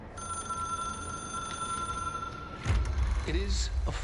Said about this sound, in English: It is a phone. It's an object of power.